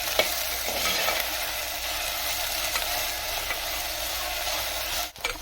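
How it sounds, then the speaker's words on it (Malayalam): Chopped okra (ladies finger) sautéing in a pan, a steady close sizzle with stirring scrapes running throughout, loud and unbroken until a brief dip near the end. "നമ്മൾ അരിഞ്ഞ് വെച്ചിട്ടുള്ള വെണ്ടക്ക ഇട്ടിട്ടൊന്ന് വഴറ്റിയെടുക്കണം"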